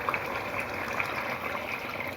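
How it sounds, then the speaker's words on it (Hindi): Water pours steadily into a pot of meatball curry, a continuous rushing splash at constant volume with no talking. "पानी ऐड करूँगी"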